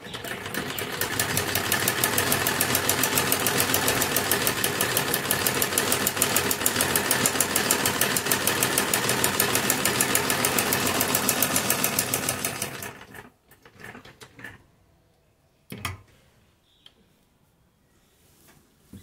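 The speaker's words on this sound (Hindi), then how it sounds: "सेंटर में एक सिलाई लगा लेंगे पहले।" Sewing machine stitching lace onto a kurti neckline, a loud fast steady whirring rattle for about thirteen seconds, then stopping, followed by quiet handling noises and a few short bursts.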